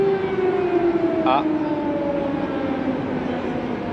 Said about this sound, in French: on a la sirène qui commence